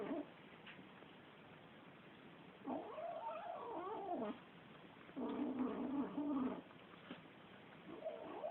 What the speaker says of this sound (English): You're making some funny noises there. There's 2 kittens trying to eat one